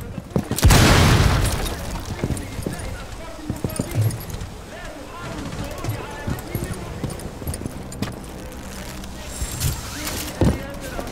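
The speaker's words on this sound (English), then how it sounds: "Blast area!" A breaching charge blows in Rainbow Six Siege, one loud close boom that then trails off into scattered in-game clatter, thuds and impacts, with a player's voice talking over parts of it.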